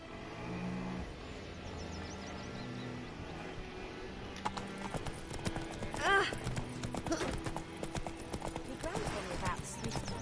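Roach, a horse in the video game The Witcher 3, gallops with quick clip-clop hoof beats mixed into game music and ambience. A louder thud rises briefly near the middle.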